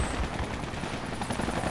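A helicopter in Project Reality BF2 drones with a steady, close rotor thump and engine roar, loud and continuous with no voices.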